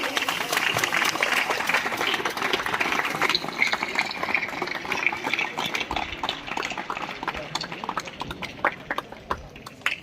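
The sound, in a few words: audience applause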